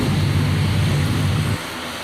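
A steady, loud engine drone of a small propeller plane just landed on Rodrigues Island fills the air, dropping slightly in level near the end as it winds down.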